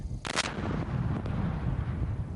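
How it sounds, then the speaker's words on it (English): A police test detonation of a real ammonium nitrate bomb gives one loud, sharp blast early on, followed by a rumbling roar that fades into dull noise. "This test explosion of a real bomb by police played in court showed a jury what the chief says was the real intent"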